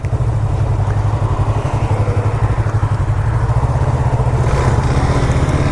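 Yamaha R3 motorcycle cruising at highway speed: steady, loud twin-cylinder engine drone with a rapid pulsing throb and constant wind rush, heard from the rider's position.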